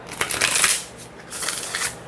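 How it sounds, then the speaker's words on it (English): An oracle card deck is shuffled up close in two brisk riffling bursts of papery flutter separated by a short pause, with no talking. "let's see how this deck shuffles"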